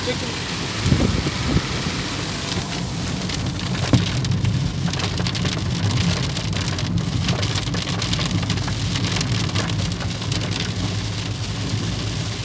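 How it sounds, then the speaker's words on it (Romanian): Heavy rain pours steadily and loudly in a forest, a dense continuous hiss of drops on surfaces with a few heavier splashes, while a person talks over it. "cum vezi ce hal plouă"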